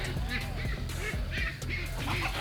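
Ducks quacking and honking in a backyard where they are fighting with chickens, a busy run of overlapping calls that stays loud and close throughout, mixed with some other bird noise.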